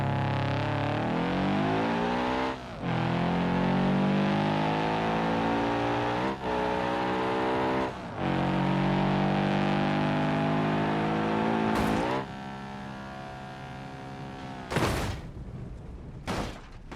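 A Porsche 718 Carrera engine revs up through repeated rising pulls, each climb breaking off for a gear change, loud and close, with a few sharp bursts at the end as it drives.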